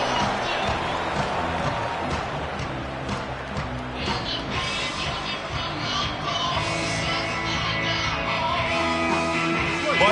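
Stadium crowd roaring and cheering after a punt return in an NCAA college football video game, a steady loud wash of massed voices with scattered yells and clapping throughout.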